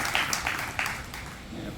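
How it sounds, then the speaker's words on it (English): An audience at a gallery event applauds for an arts foundation, steady soft clapping from a small crowd heard at a modest distance with no single standout claps. "let us all give a round of applause for Sutra Foundation"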